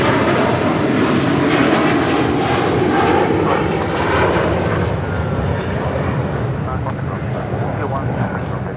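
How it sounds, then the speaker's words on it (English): EVA Air Cargo Boeing 777 freighter, flight 609 to Taipei, departing Los Angeles International Airport, its engines a loud, sustained roar that swells and slowly fades, with talk over it. "That is Eva Air Cargo 609 departing to Taipei on a 777 freighter."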